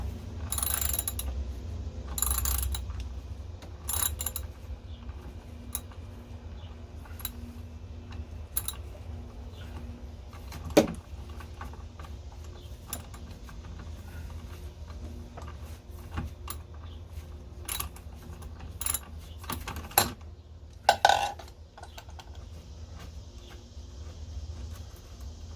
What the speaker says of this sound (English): I'm gonna go ahead and undo the bolts that are connected the charge controller to the battery.